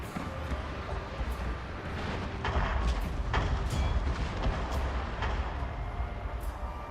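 Artillery barrage on a Total War: Fall of the Samurai battlefield, a dense, continuous rumble of booms with sharp cracks of cannon and rifle fire layered throughout, loud and sustained without pause.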